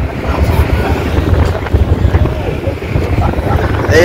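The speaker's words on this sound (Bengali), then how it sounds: "এই যে আমাদের লঞ্চ এখন ছেড়ে দিচ্ছে" Wind buffets the microphone in a heavy, continuous low rumble as the Staten Island ferry in New York pulls away, with engine drone and water beneath and faint voices mixed in.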